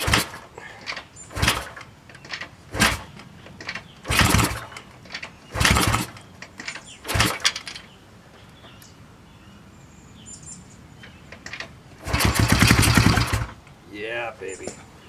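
A 1970 Honda SL350 motorcycle engine cranks in repeated short loud bursts that try to catch, then runs briefly for about a second near the end, with birds faintly in the background.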